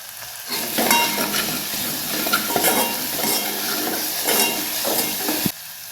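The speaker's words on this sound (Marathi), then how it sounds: "लसूण आणि हिरव्या मिरच्या आपल्याला तेलामध्ये फ्राय करायचे" Garlic and green chillies fry in hot oil with a steady close sizzle, broken by occasional scrapes and light clinks of a stirring spoon, cutting off sharply near the end.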